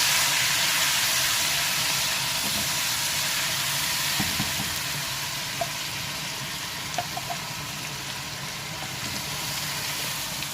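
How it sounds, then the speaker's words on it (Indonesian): Blended shallots and chili sauté in a generous amount of oil for a shrimp-paste sambal with baby squid, giving a steady, close broadband sizzle and hiss with a few faint clinks, and no talking. "Kita tumis dulu bawang merah, cabai yang kita blender."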